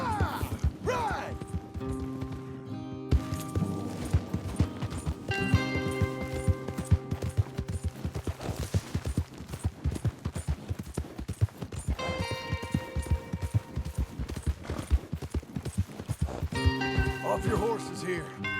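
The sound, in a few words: horses galloping in a video game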